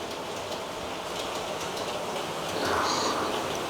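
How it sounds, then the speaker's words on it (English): A BR Blue Class 37 model locomotive runs on a layout, a steady close rolling rumble with faint rhythmic clicking from the wheels, growing slightly louder toward the end. "The BR Blue split head code 37 coming out of Liverpool Street"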